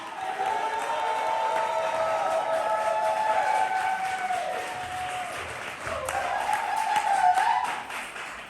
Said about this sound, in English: Keep that applause going for the last poet in this first round.